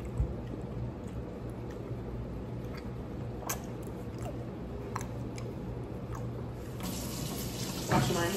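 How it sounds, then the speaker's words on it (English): Hands washed under a running tap at a sink, a steady splashing water stream throughout, fairly close, with a brief louder rush near the end. "Washing my hands because the honey's a little sticky."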